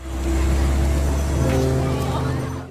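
A taxi drives along with a steady, close engine drone and a low rumble that holds evenly for a few seconds, with a faint whine rising over it midway.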